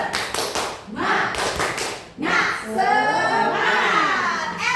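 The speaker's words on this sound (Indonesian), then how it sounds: "kita tepuk semangat" Teachers in a training session do a rhythmic 'tepuk semangat' clap, with sharp group claps in a patterned beat broken by short chanted voices, loud and close.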